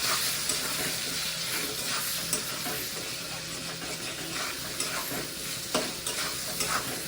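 Cumin, coriander, turmeric and ginger paste stirred in a frying pan, a spatula scraping in irregular strokes over a constant oily sizzle, close and clear, with no voices.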